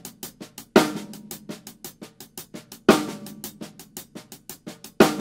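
A swinging drum shuffle groove: steady light hi-hat ticking with soft grace notes in between, punctuated by louder accented backbeat strikes every couple of seconds.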